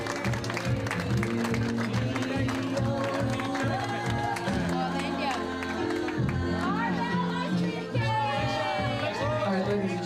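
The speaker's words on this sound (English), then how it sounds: "Nice round of applause, ladies and gentlemen." Wedding guests applaud and cheer over loud music with a steady beat, clapping and whoops blending into the crowd noise, with voices talking under it.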